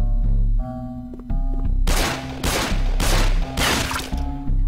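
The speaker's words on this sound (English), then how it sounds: "Oh, he shot himself" Gunfire in The Happyhills Homicide comes as a rapid series of four or five loud, sharp blasts over a low game hum, each shot booming close and cutting off abruptly.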